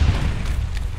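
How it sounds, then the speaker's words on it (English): Mortar explosion during a Canadian Forces training op, a deep muffled boom with low rumbling that fades quickly, loud and close. "Yep, that's mortar fire."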